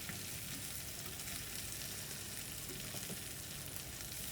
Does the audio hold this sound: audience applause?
no